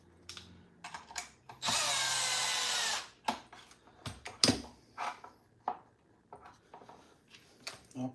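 A power drill briefly whirs at high speed driving screws into a Traxxas XRT RC car chassis, a loud sustained burst of about a second and a half, surrounded by scattered clicks, clatter and handling of parts.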